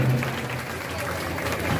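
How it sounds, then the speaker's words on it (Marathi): An audience at a live stage entertainment show with games and dancing claps loudly in a dense, continuous burst of applause. "एकदा विक्रांत दादांसाठी हात वर करून जोरदार टाळ्या व्हायला पाहिजेत."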